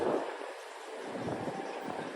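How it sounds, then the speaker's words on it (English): Wind blowing outdoors in New York City, a steady low rushing gust buffeting the microphone throughout, fairly quiet and with no talking. "it's getting windy"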